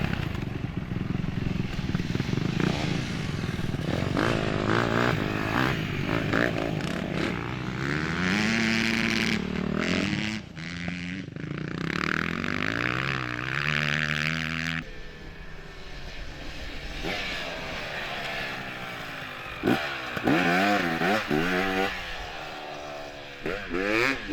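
Off-road racing motorcycles and quads at the Coligny 200 roar through a corner, engines revving and shifting in rising and falling sweeps as several bikes pass close in succession.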